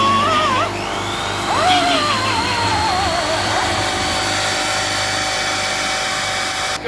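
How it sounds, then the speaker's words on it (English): A small disc sander grinds rust off the edge of a Ford F-150 fuel tank, a loud continuous whir with wavering pitch as the disc bites and eases, steady and close throughout. "This little sander here. The disc there. Get some of that rust off the edge there."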